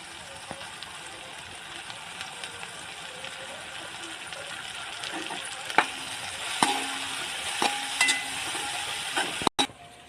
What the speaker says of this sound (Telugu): ఇప్పుడు కొద్ది కరేపాకు పుదీనా కొత్తిమీర వేసుకుందాం